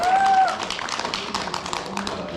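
Applause at a book launch event in a hall, with a quick patter of claps that eases off. A voice talks over the opening moments.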